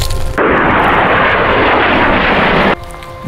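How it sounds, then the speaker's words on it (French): A vintage warbird such as a Spitfire or P-51 roars overhead at the Temora air show in Australia, a loud steady engine rush that swells in abruptly and cuts off after about two seconds. "les avions nous survolent comme ça là-haut"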